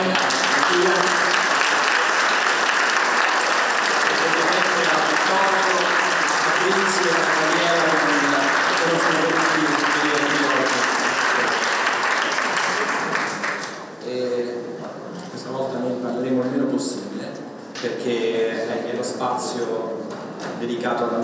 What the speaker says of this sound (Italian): il vostro applauso lo giriamo ad Antonio